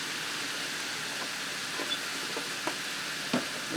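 A spoon stirs salt, pepper and crushed red pepper flakes in a frying pan for shrimp. It makes a steady low sizzle with a few faint scrapes and clinks over it, heard alone without speech.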